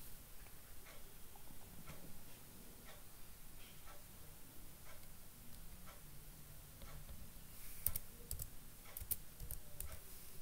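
Keys on a computer keyboard are tapped to type a lint command, a sparse run of quiet, irregular clicks close by in a hushed room, with a brief quicker burst near the end.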